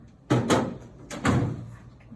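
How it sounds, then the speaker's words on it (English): A drawer is pushed shut and slid away at a medication cart, giving two pairs of close, fairly loud thumps and rattles about a second apart, alone without talk. "Then I would put the drawer away."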